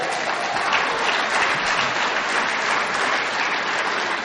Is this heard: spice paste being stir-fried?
no